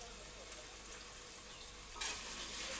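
Coriander and curry leaves fry in a pan with a steady, soft hiss that swells to a brighter sizzle about two-thirds of the way through, fairly faint and with no talking.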